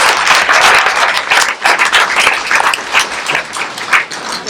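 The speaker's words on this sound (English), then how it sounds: "Let's give him a round of applause." Audience applause at a school board meeting for a student who made the all-state band, a dense, steady wash of many hands clapping close by, swelling and dipping slightly throughout.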